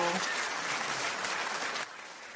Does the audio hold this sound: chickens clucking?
no